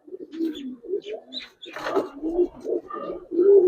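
Giribaz pigeons coo in a string of soft, low throaty calls, close by and fairly loud, with short pauses between them and a brief higher chirp mixed in.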